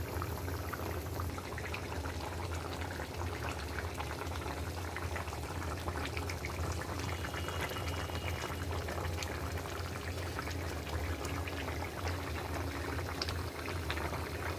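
Fish curry seasoned with cumin bubbles in a pot on a stove with a continuous, even simmering and gurgling, fairly close and steady throughout, with no talk.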